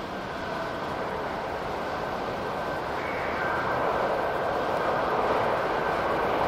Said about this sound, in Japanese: 元八幡行きが10両編成で到着します。